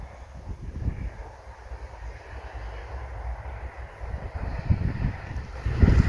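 Wind blusters across a microphone at a paramotor takeoff site, a steady low rumbling roar that swells in gusts toward the end, with no voices.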